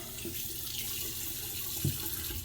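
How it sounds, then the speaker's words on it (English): A bathroom tap runs steadily into a sink for a cold water rinse after a shave, a soft even splashing stream heard alone at low level with a brief clunk near the end. "I'm going to do a quick cold water rinse."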